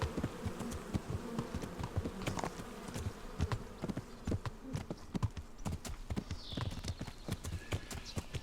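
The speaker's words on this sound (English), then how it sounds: "Beehives." Bees buzz steadily around beehives in the medieval game Kingdom Come: Deliverance, mixed with the continuous clip-clop of horse hooves passing close by and a brief whinny.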